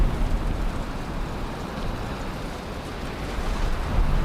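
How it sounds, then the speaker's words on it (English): Steady rain pours down in the Valheim game world, a dense, continuous hiss with low rumble, fairly loud and unbroken throughout with no voices. "Okay, new day, raining,"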